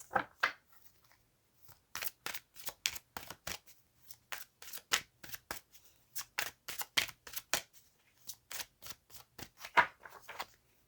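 Tarot cards are shuffled repeatedly up close, crisp riffling bursts in an irregular rhythm separated by short quiet gaps.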